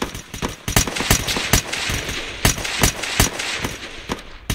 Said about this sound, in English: Give me 5 shots for the torso.